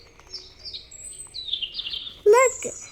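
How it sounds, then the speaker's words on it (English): Young birds that have just left the nest chirp in short, high tweets and thin whistles, with one louder, ringing call near the end standing out over the quiet background. "Look at the birds."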